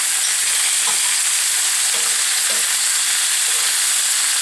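Chicken browning in a pan ahead of a braise with vegetables, a dense, loud, steady hiss of sizzling fat with a few faint stirring knocks beneath it, close by, no voices.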